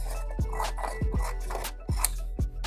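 Scissors snip through cardboard while cutting out arm pieces for a toy dinosaur, several sharp crunching cuts spaced irregularly and close up with no talking.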